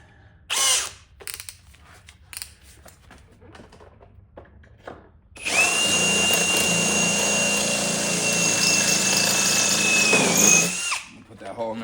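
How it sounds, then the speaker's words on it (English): A power drill bores out a handle on a Toro LawnBoy 21-inch mower, spinning up into a loud, steady whine for about five seconds after scattered clicks and handling noises, then winding down. "I'm gonna drill that fucker out."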